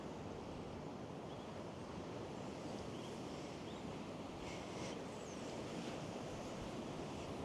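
Fierce sea waves surge and break along the Gorleston coast under strong wind, a steady, dense roar of surf and gusting air buffeting the microphone, continuous throughout with no voices.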